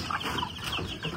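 Chickens clucking and chattering in a poultry shed where chicks are raised, a dense, continuous flock murmur with overlapping calls close by and no talking.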